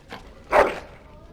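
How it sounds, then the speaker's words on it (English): A dog in the video game Dragon Age: Origins gives a single short, loud whimpering yelp at close range, standing out briefly over a quiet background. "Bloody dog."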